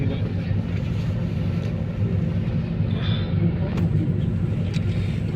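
A train rumbles steadily on the rail line near the Ram Setu open bridge, a loud continuous low roar with clanking wagons close by, and no one speaking.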